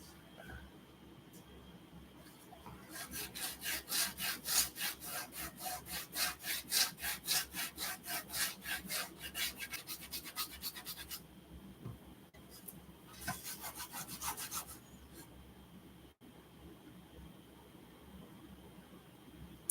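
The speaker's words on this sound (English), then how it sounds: "trying to remove a lot of this stuff with just the grip or with the sandpaper" Sandpaper rubbed back and forth over wood in a fast, steady run of quiet scraping strokes, stopping briefly and then starting again in a shorter burst.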